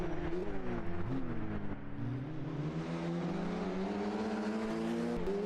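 Race cars in a sim racing video game pull away from a standing start as the red lights go out, a dense layered engine drone rising steadily in pitch as the field accelerates, loud and continuous with no voices.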